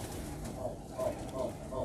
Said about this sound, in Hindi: दूसरा कबूतर ये है